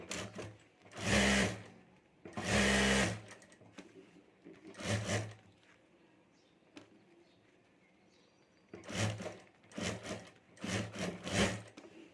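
A sewing machine stitches the lining all around the top of a handmade handbag in several separate short bursts, loud and close, with quiet pauses between runs.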